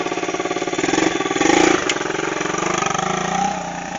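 A motorcycle engine close by, throttle blipped so the revs rise and hold in a rough, pulsing drone before settling back.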